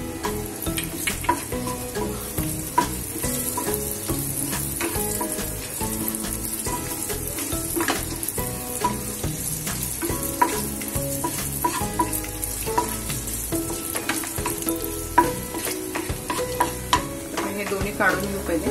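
Raisins being stirred and fried in a pan for amaranth dry-fruit laddu, with steady close sizzling and frequent spoon scrapes and clatters running the whole way through, and no one talking.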